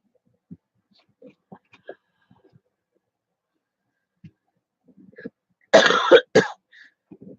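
A woman coughs hard twice in quick succession up close, after a stretch of near silence broken by faint small throat sounds and breaths.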